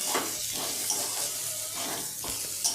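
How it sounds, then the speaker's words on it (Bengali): Ghee sizzling and crackling in a pan of roasting semolina upma, a steady close, fairly soft hiss with a few brief clinks, no talking. "আমি সামান্য এখানে ঘি যোগ করে নিলাম"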